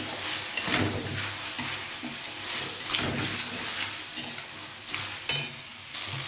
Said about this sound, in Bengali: এবার এর মধ্যে ভেজে রাখা সবজিটা দিয়ে দেবো। একটু ভালো করে কষিয়ে নেবো আর একবার।